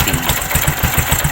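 A 2020 Bajaj CT125 motorcycle's engine idles just after a kick start, a loud, close, steady thumping beat with no talking.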